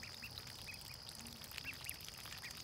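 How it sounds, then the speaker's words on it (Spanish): Two-week-old ducklings quacking in short, repeated calls, fairly faint and close, with no talk over them. "Miren los patos, hoy 2 semanas que llegaron y miren cómo andan ya"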